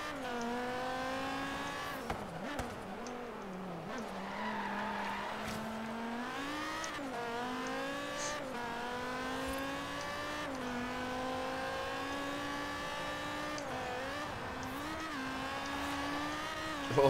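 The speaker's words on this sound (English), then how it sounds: "I think this V10 sounds more like it came out of like an Audi R8 than a Viper." V10 car engine in the Forza Horizon 3 racing game, revving and shifting through gears with rising and falling pitch, steady and fairly faint, with tire noise and no speech.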